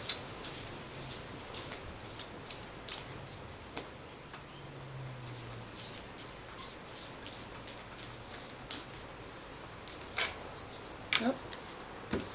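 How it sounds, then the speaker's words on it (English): Tarot cards shuffled by hand in a quiet room, a soft continuous rubbing and riffling with scattered crisp flicks and taps, faint and close, with no talking over it. "So I'll just close my eyes and shuffle my cards."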